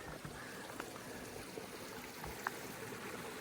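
Soft continuous trickle and gurgle of a small stream at a water source on a forest hiking trail, steady and fairly faint with a few small splashes.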